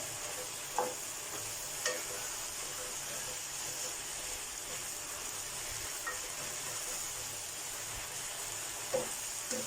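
Eggplant with holy basil leaves stir-fries without oil, making a soft, even sizzle with a few faint spatula clicks against the pan.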